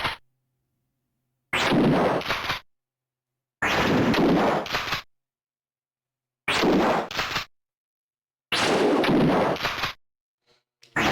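Four heavy shotgun blasts from the 1995 video game Alone in the Dark 3, each a loud, long booming report separated by silent pauses of about two seconds, evenly spaced and alone.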